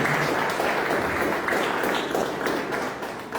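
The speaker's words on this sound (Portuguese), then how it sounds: "Palmas para o Senhor." A church congregation applauding, dense clapping blending into a steady roar that stays loud for the whole stretch and eases slightly near the end.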